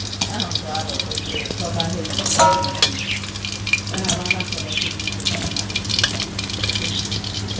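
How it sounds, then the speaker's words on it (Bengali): Singi fish fry in a pan in village-style home cooking, a loud, continuous close sizzle with bubbling crackle and occasional clatter, with faint voices now and then. "তো আমার মাছ ভাজা হয়ে গেছে"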